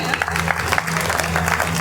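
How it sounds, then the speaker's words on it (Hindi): Applause from the audience at a Hindi poetry recital, a kavi sammelan, with a brisk, fairly loud burst of clapping from the crowd over a low steady hum, continuing for a couple of seconds. "एक बार जोरदार तालियां लगा दीजिएगा"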